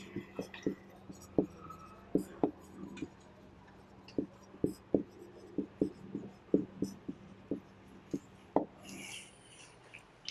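Chalk or marker taps and scratches on a board during a maths lesson, irregular short strokes, some close and sharp and others faint, while a voice speaks quietly in the background.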